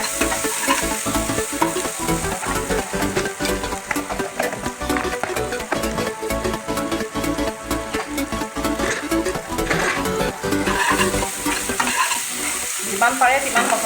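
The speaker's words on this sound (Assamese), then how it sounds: "খুব ধুনীয়াকৈ এইখিনি মজাম এতিয়া।" Ginger paste, garlic and spices sizzle loudly in a pan for a jackfruit seed curry, with a continuous close frying hiss and rhythmic scraping strokes of a spoon stirring throughout, no speech.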